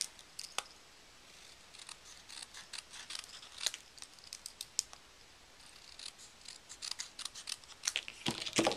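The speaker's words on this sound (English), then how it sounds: "we're going to cut just a small border all the way around" Scissors snip steadily around the edge of a piece of cardstock to leave a small border, a close, quiet run of sharp irregular cuts and paper rustle with no talk.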